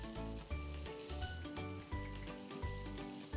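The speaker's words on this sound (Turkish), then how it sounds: "Kızgın yağa atıyoruz." Floured whiting fish frying in hot oil, a close, continuous sizzle and crackle laid over a rhythmic musical backing.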